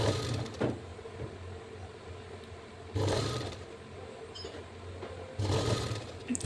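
A sewing machine runs in three short bursts while stitching a double-folded strip along the edge of a lined blouse, with quiet pauses between the loud, whirring runs.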